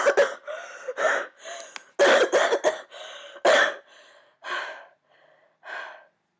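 A woman coughs, gasps and gags after breathing in a horrible gas, a string of loud, close, harsh bursts and ragged breaths with short pauses between them, fading to weaker coughs near the end.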